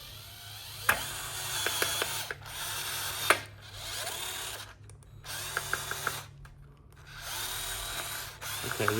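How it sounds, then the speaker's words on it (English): A power drill drives a screw into a rolled sheet-metal battery box skin for a Scavenger, in several short whirring bursts with brief pauses between them, close by. "Stick your screw in."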